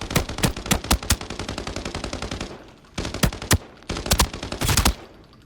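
Assault rifle fire in the video game Arena Breakout: loud, close bursts of rapid automatic shots, a long string first, then shorter bursts after a brief pause, with no talking.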